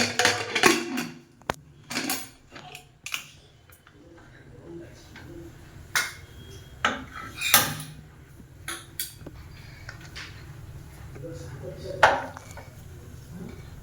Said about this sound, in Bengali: এবার আমি ঢাকনা চাপা দিয়ে দিচ্ছি।